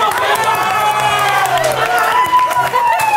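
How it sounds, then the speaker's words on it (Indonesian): A studio audience claps and cheers for a guest on a talk show. The applause is loud and busy and continues throughout, with music playing underneath. "Tepuk tangan dulu untuk Eca."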